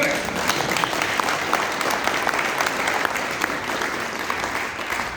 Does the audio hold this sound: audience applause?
yes